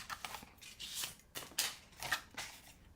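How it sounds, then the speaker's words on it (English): Scissors snipping card stock along a score line on a Halloween potions-and-spells treat box, a quick series of close, crisp cuts in an uneven rhythm with no voices. "we're going to cut on that score line"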